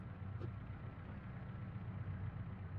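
A car engine idles low and steady while a taxi parks in the BeamNG Drive driving game, a constant quiet rumble with a single faint click near the start.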